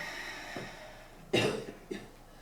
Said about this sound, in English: that's just coughing.